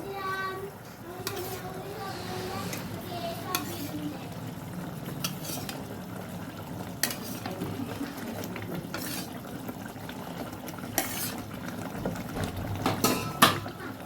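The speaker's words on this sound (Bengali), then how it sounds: "মশলাটা আমার কষানো হয়ে গেছে আমি এবার এর মধ্যে একে একে ভাজা মাছগুলো আমি ছেড়ে দেবো" Fried katla fish pieces dropped one by one into spiced masala in a pan, a low sizzle with repeated clinks and scrapes of a utensil against the pan.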